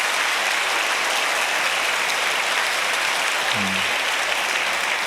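A church congregation at a Sunday service breaks into broad, steady applause, a dense wash of many hands clapping that carries on throughout, with a brief low tone near the end.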